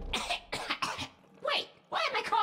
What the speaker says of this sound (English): Wait, why am I coughing?